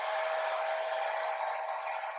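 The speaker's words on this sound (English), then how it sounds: "we're going to use a hairdryer. And we're going to set it to low setting." Steady, soft whooshing hum of a hair dryer running on low while drying a cleaned watch movement, constant airflow with a faint tonal whine, no talking.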